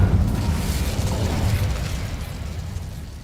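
An Incendio fire spell from Hogwarts Legacy goes off as a loud, close whooshing blast that roars at once and then slowly fades away, with no voices.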